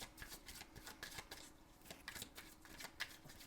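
Tarot cards are handled and drawn from a deck in a quick series of soft papery flicks and slides, close and quiet with no voice over them.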